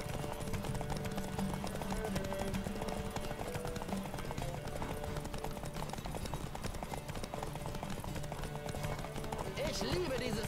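Horse hooves clip-clop at a fast running pace in The Witcher 3: Wild Hunt, a continuous rhythmic patter under constant game sound and dense background noise.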